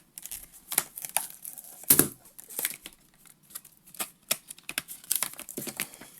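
Sharp crinkling and tearing bursts of adhesive tape peeled off a Marvel Champions hero pack, close and fairly quiet, with one louder rip among scattered small crackles.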